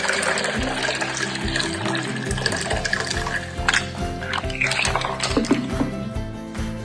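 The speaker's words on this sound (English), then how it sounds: "we're going to pour in the water" Warm water pouring into a challah dough mixture, a steady splashing trickle that runs under a low background hum, with a voice speaking over it.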